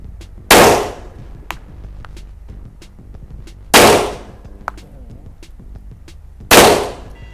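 Three sharp, loud shots from a ZEV OZ9 pistol at a shooting range, spaced a few seconds apart, each with a short echoing decay, with faint clinks and background noise between them.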